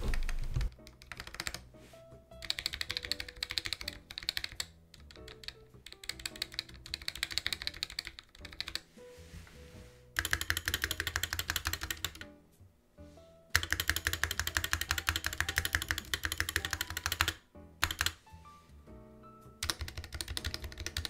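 Rapid mechanical keyboard typing up close, dense clacky keystrokes with rattling stabilizers on larger keys, in bursts separated by brief pauses.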